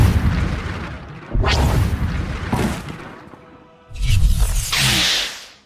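Deathmark laser explosion in Star Wars: The Old Republic, a series of loud, heavy booms and blasts in several bursts with roaring tails, no voices.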